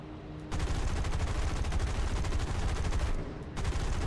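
Rapid machine-gun fire rattles in a War Thunder cockpit arcade battle as bullets strike the player's plane, a dense continuous burst starting after a brief lull, dropping off for a moment near the end, then resuming.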